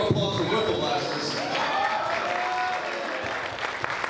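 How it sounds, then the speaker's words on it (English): Applause from an audience at the Free Play Florida 2018 gaming expo after a Bad Boy Button Bash match, a dense, steady wash of clapping mixed with crowd noise and some voices, sustained throughout. "Round of applause for Whiffle Blasters."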